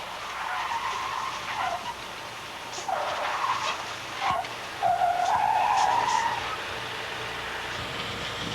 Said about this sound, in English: This bobtail has its front brakes operational. It is going through a lane change maneuver.